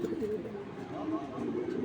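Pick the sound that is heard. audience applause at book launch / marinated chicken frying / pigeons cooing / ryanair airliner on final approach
pigeons cooing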